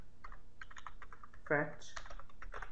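Quick clicks of a computer keyboard, close and fairly quiet, run under a man's speech.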